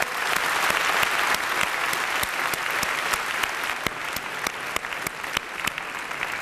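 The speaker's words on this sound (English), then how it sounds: "Please let's applaud them all." A graduation audience gives sustained, dense applause for award nominees, many people clapping steadily and loudly throughout with no speech.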